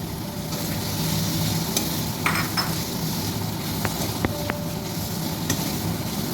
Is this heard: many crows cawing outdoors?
no